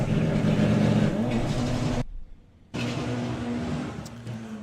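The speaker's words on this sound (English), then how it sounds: "Lots of wheel spin off the line." Drag racing cars, including a Porsche, launching with heavy wheel spin at Santa Pod, a loud revving engine roar that cuts out briefly and then resumes at full volume.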